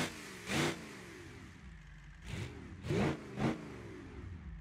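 A simulated V8 diesel engine in the car-building game Automation idles low, then revs in four short throttle blips, with the exhaust rising and falling.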